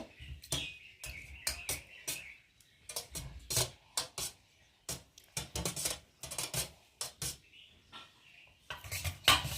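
Five eggs being beaten in a bowl, a busy run of quick clinking and tapping strokes in uneven bursts, fairly close and moderately loud, with short pauses between flurries and no talking.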